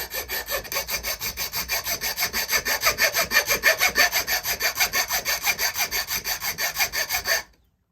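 Hand saw cutting steadily through wood for a bushcraft knife build, with about thirty fast, even back-and-forth strokes, close and loud, before stopping abruptly near the end.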